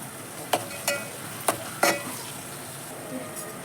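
Chili and curry leaves sizzling in hot oil in a pan for bagara rice, a steady frying hiss punctuated by several sharp crackles and pops in quick succession.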